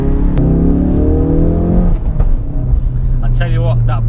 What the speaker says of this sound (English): that pop and bang does not get old